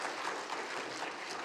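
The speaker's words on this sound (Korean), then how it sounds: "박수 한번 부탁드리겠습니다." A church congregation applauds together in a soft, diffuse patter that sounds faint and distant and keeps an even level for a brief stretch.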